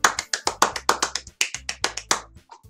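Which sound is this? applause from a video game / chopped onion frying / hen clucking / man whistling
applause from a video game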